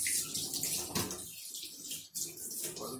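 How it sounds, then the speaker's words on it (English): A kitchen knife rinsed under a running tap, with a steady close splash and rush of water shifting as the blade moves through the stream, no talk over it. "Wash up this knife."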